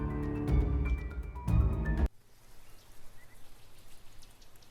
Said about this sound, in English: A dreary downpour starts off the Monday.